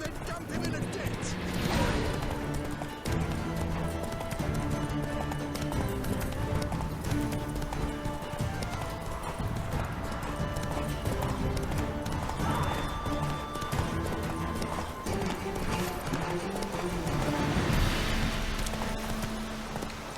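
Roach, a horse in The Witcher 3, gallops steadily with rapid rhythmic hoofbeats throughout, under game music and ambient sound, with a voice briefly heard.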